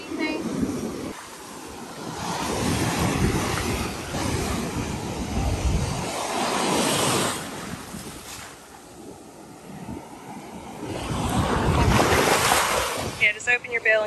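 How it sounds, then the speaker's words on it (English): Surf breaking on a beach during a fishing trip for red drum, a broad steady wash of waves with wind buffeting the microphone, swelling and easing across the stretch; people talk briefly at points. "You see where those waves are breaking?"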